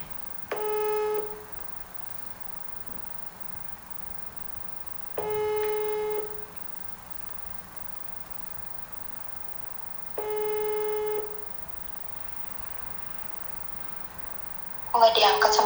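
Telephone call going unanswered, three evenly spaced ringing tones about five seconds apart over quiet background, then a brief burst of other sound at the end.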